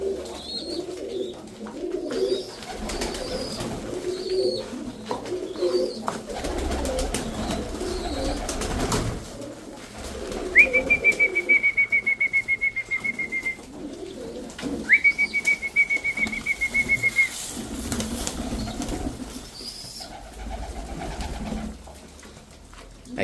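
Pigeons at a home-made feeder coo softly and repeatedly, low murmuring calls amid outdoor ambience, with two longer bright whistling tones standing out midway.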